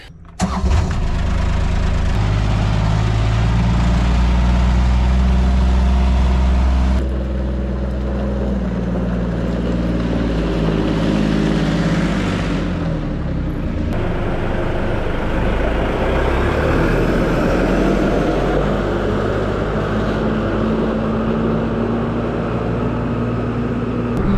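A farm tractor engine starts up close by and runs at a loud, steady idle, then shifts to a rougher, busier mechanical rumble, with no talk.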